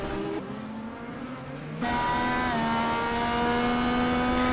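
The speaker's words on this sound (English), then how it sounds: "Just listen to the engine." A race car engine accelerating hard on the track at COTA (Circuit of the Americas) in Austin, loud and close, whining through a shift and then climbing steadily in pitch.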